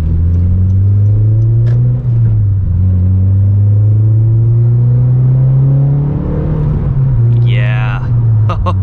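A 9th-generation Honda Civic Si engine accelerates in steady rising pulls, its loud, close drone climbing in pitch, dipping briefly at a shift and climbing again, with a short chirp near the end.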